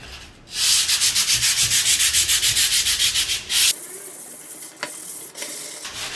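Rapid, steady back-and-forth sandpaper strokes scraping close by, followed by slower, lighter rubbing with a few sharper scuffs.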